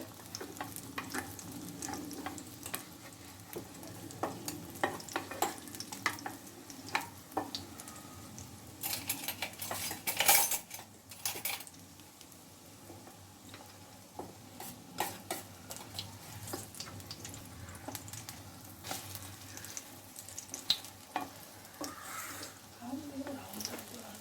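Stuffed egg bread frying in a pan with steady sizzling and crackling, and a few clattering knocks as it is flipped partway through; a voice talks over the cooking.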